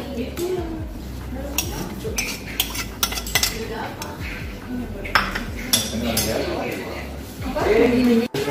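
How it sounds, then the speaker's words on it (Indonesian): Spiced carp meat being mixed in a bowl for fish jerky: a spoon clinks and scrapes against the dish in irregular strokes, with voices murmuring in the background. "Aduk hingga rata dan kemudian hingga dagingnya tercampur dengan bahan-bahan tersebut."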